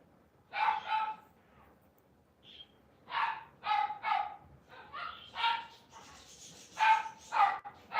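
Dogs barking in repeated bursts of two and three barks, moderately near, with brief gaps between volleys and a faint higher yelp partway through; no one talks over them.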